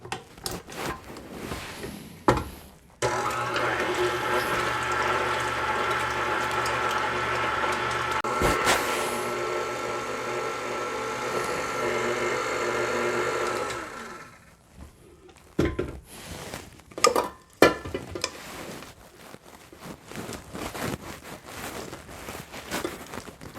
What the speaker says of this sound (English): We're going to whisk this into cream and smoothie.